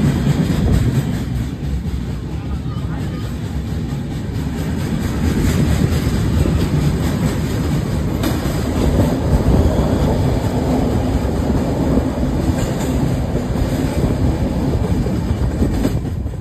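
A Vande Bharat Express train runs steadily near Visakhapatnam, a continuous loud rumbling roar of rolling wheels on rails with faint rhythmic clatter, no voices.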